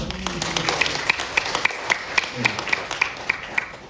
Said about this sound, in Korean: 박수를 보내드릴까요?